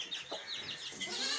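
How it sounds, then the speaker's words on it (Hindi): A broody hen sits and clucks in short, nasal bursts that repeat close by, with soft, scratchy calls between them. "इधर दोस्तों अपनी कुड़क मुर्गी बैठी हुई है"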